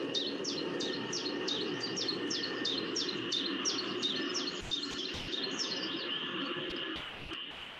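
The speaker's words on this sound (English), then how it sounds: "We're going to play first the bird call with airplanes in the background." Recorded bird song with rapid repeated chirping phrases at a steady rhythm, heard over a continuous low rumble of airplanes in the background, the calls fading near the end.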